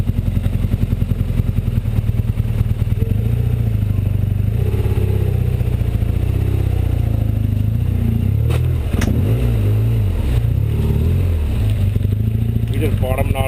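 Fully loaded BMW GS adventure motorcycle grinding over a rough dirt road in Nepal near Muktinath, engine droning loud and close with rattling clatter and bumps, while a rider talks over it.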